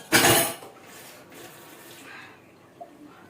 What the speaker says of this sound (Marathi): चला आता धुऊया आपण मस्त किचन मध्ये